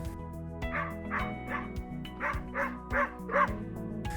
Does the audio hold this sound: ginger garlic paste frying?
no